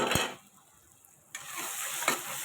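Tomato masala is stirred in a pan as it fries for chicken biryani, a near, loud scrape and sizzle that breaks off briefly into near silence before the hissing frying returns with another stirring scrape.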